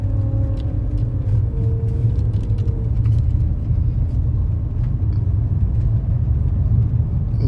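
A BMW car drives along with a steady engine drone and road rumble heard from inside the cabin. A brief rising engine tone sounds early on, with no talking.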